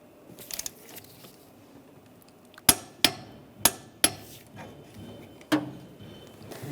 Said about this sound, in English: torque the O2 sensor to 36 foot-pounds